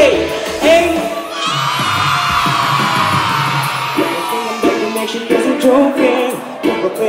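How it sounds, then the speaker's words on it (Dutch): A crowd of children at a large kids' party in Zwolle shouts as loudly as it can, one long sustained roar of voices lasting several seconds, loud and close, then breaking into scattered yells. "En dan moet je nog 1 keer zo hard als je kan Jane roepen"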